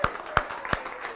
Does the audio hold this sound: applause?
yes